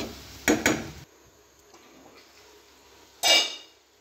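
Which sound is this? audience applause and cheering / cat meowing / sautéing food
sautéing food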